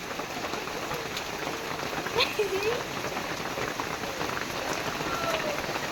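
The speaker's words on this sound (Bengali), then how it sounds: "বৃষ্টি কমে যায়, বৃষ্টি কমে যায়, বৃষ্টি কমে যায়।" Steady rain patters on a surface with a constant hiss, with a few faint bird chirps and distant voices in the background.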